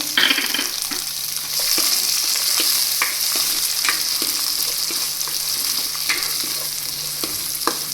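Peas, carrot and onion frying in a pan for upma, a loud continuous sizzle broken by repeated scraping stirs of a spoon against the pan, no voices.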